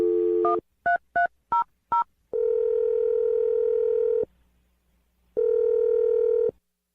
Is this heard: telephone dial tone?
yes